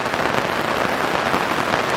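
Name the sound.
rain falling on solar panels at campsite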